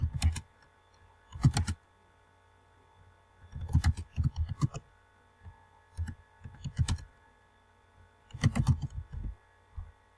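Keys clack on a computer keyboard in quiet, separate bursts of rapid typing with pauses between them, close and fairly soft.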